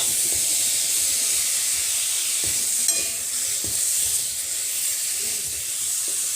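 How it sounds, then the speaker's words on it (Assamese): Jaggery melts and sizzles in a hot wok for an Assamese pickle, a steady close hiss of frying with a few soft stirring knocks. "আৰু এই গুড়খিনি মই এতিয়া অকমান পগাই ল'ম।"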